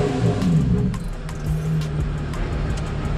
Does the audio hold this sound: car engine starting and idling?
yes